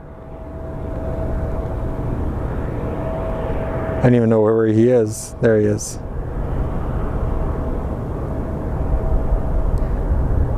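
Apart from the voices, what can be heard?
Spirit Airlines plane from Dallas landing at Sky Harbor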